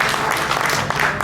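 Crowd at a Nebraska stage fair show applauds, a short, steady patter of many hands clapping, fairly close and continuous for about a second.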